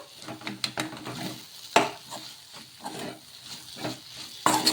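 A cooking mixture is stirred in a pan after turmeric is added, for jowar bun dosa: a spoon scrapes and knocks against the pan in irregular strokes over a soft, steady sizzle, close and alone.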